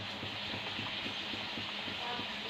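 Puris deep-frying in hot oil, a steady sizzling hiss with faint bubbling crackle throughout, close and quiet, no voices over it.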